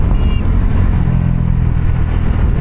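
Bajaj Pulsar NS400Z motorcycle accelerating hard on a road, its engine roaring loud and close with a steady, continuous drone.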